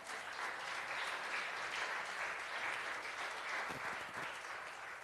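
A church congregation bursts into sustained applause, dense and even clapping that fills the room at a moderate, slightly distant level without a break.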